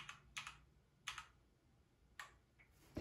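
Typing on a Redragon K552 gaming keyboard, a few separate bursts of sharp keystroke clicks with quiet gaps between them, close and fairly faint.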